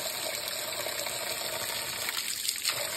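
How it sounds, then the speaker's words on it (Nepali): Cold water gushes steadily from an outdoor water spout, a close, continuous splashing rush with a slight flutter toward the end and no voices. "यस्तो राम्रो धारा छ हेर्नु।"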